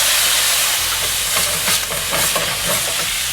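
White wine hits a hot pan with capers, bursting into a loud steamy hiss and sizzle that crackles on as the fond is scraped, close up with no talking.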